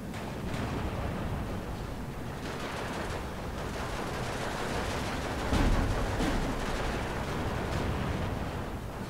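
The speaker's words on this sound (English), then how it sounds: "we're just going to start dropping some artillery into them" Distant rumbling artillery barrage in the strategy game Steel Division 2, a continuous dense wash of booms with one heavier impact standing out midway.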